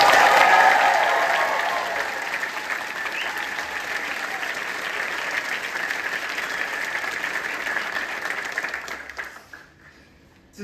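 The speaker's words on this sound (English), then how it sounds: "let's give them a big round of applause" Sustained audience applause with a crowd clapping at the final night bows of a stage production of Your Lie in April, loud at first, then steady before fading out near the end.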